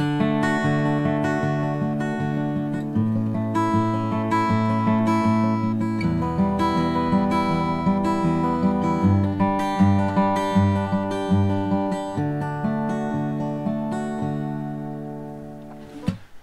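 Acoustic guitar fingerpicked through a chord progression, thumb striking root notes with plucked higher strings in a steady rolling pattern, close and clear, with no talk.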